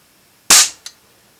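A single sharp crack from an old 1930s air rifle firing a wadcutter pellet, loud and close, followed by a brief fainter knock and then quiet.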